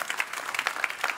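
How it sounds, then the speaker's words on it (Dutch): Symposium audience clapping in a hall, a brief patter of scattered handclaps, fairly faint and short. "En nogmaals applaus voor deze twee heren."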